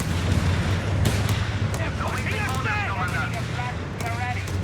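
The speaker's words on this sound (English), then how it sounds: "The mortar's a little scary" Mortar and artillery fire in the World War II strategy game Company of Heroes 3, sharp booming impacts over a constant rumbling battle bed, with unit voice chatter layered over the explosions.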